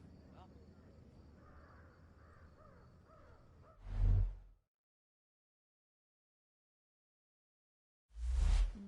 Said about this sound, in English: Hear that, friends? It's the crows.